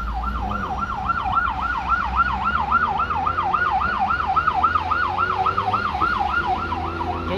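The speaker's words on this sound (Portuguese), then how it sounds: "Aí vem mais uma ambulância do SAMU fazendo o seu serviço diário" A SAMU ambulance siren wails in a steady, rapid up-and-down sweep, loud and close, as it passes through traffic at the Indaiá interchange near the Tamoios highway, with low road rumble underneath.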